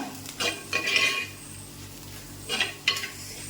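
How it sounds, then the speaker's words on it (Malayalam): Spice powders and onions are stirred in oil in a pan, giving bursts of spoon scraping and clinking against the metal over a faint sizzle, with no talking. "നമുക്ക് ഇനി ഇതിനകത്തിട്ട് നമ്മുടെ പൊടിയെല്ലാം ഒന്ന് മൂപ്പിച്ചെടുക്കാം"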